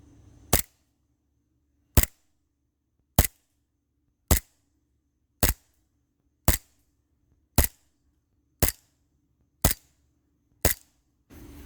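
A KnightHawk WE-Tech 1911 gas airsoft pistol fires through a chronograph: ten crisp, evenly spaced snapping shots about a second apart, close and alone against near silence.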